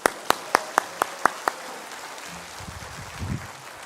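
A church congregation at a Sunday service claps to welcome the pastor: seven sharp, evenly spaced claps ring out in a steady rhythm, then fade into quiet room murmur and low rumbling.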